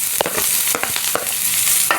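Chopped onions hit toasted garlic in a hot pan for ginisang ampalaya, setting off a steady, close sizzle of frying with a few sharp clatters from stirring.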